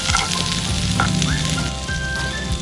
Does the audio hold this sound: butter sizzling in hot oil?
yes